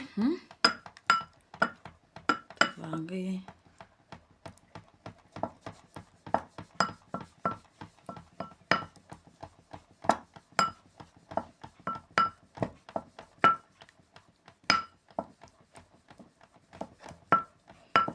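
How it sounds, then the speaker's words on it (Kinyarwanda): Homemade mayonnaise is being whisked hard in a bowl, producing a fast, steady run of sharp clinks and taps from the whisk striking the bowl's sides, close and bright, with a brief bit of talk near the start. "vanga cyane, ukavanga n'ingufu nyinshi"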